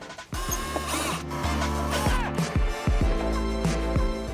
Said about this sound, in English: First, we got to unscrew these two screws to take the assembly out